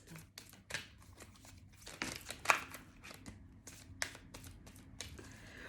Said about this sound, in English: I'll just give it 2 more shuffles.